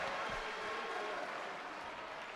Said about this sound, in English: He's going to get an applause going to the bench as he checks out here for Gehlen Catholic